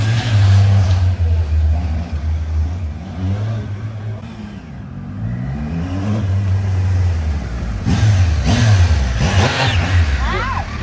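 A Honda Hornet motorcycle engine revs loudly and close by. Its pitch rises and falls through several throttle blips over a steady engine drone, and people talk over it.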